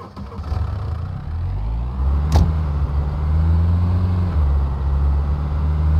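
Vehicle engine in the survival game SCUM, a steady low drone that climbs in pitch as it accelerates, with a sharp thump partway through and the engine note settling into a continuous loud hum.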